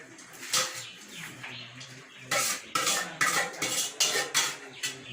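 A spoon scrapes and clanks against a pot of saltfish and cabbage being stirred over an outdoor cooking fire, with a few isolated knocks followed by a rapid, busy run of metallic clatters.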